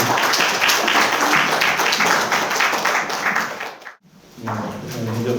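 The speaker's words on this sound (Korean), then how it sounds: "여러분들이 박수를 좀 환영해 주시기 바랍니다" Audience applause welcomes a professor about to present at a political research forum panel, a loud, dense patter of clapping that dips briefly near the end before resuming.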